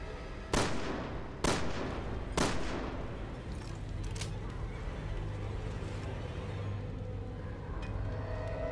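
Three loud, sharp gunshots from Resident Evil 6 ring out about a second apart, each leaving a short echo, followed by several seconds of low, rumbling game ambience.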